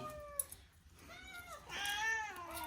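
Several house cats meow insistently close by while mackerel is being cleaned for a pulimunchi curry, with a few rising, drawn-out cries and faint kitchen clatter underneath.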